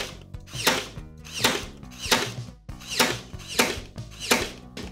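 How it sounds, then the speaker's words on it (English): A power stapler fires in a steady rhythm, six or so sharp mechanical snaps about every 0.7 seconds, loud and close with no talking. "only use a power stapler if you are with a grown-up"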